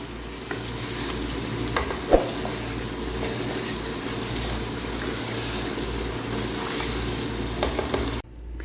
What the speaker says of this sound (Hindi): 2 से 3 मिनट के लिए मैं इसकी सही भुनाई करूँगी फुल फ्लेम पे